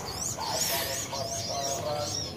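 A sirpu bird calls repeatedly in the field during a bird-luring outing, its high warbling chirps rising and falling over steady low background noise, fairly close and continuous.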